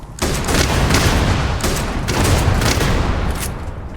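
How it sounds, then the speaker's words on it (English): Shotgun fire in the video game Starfield, a dense, loud burst of booming blasts in quick succession with heavy rumble throughout. "Open fire. I do like this shotgun"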